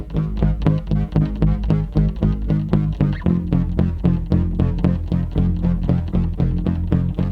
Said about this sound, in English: when you play those 3 bass parts together, it sounds like this.